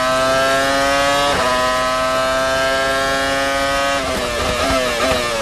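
A Benetton Supertec V10 Formula 1 car screaming up through second gear at the United States Grand Prix, a loud high-pitched onboard engine wail climbing in pitch, with a brief dip and another rise near the end.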